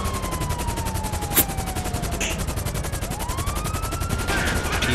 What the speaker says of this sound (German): Schießen.